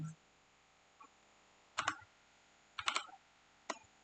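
A few scattered key presses on a computer keyboard while typing a terminal command to change directory, quiet and spaced out in short bursts with no talk.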